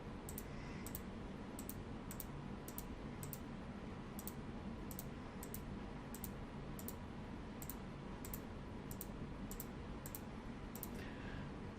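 Mouse clicks ticking off checkboxes in Autodesk Revit 2023 software, a steady series of sharp, close clicks in small bursts over a constant low background hum, with no speech.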